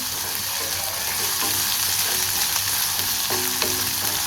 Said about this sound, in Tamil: இஞ்சி பூண்டு எல்லாத்துலேயும் பச்சை வாசனை போகிற அளவுக்கு நல்லா வதக்கி விட்டுக்கலாம்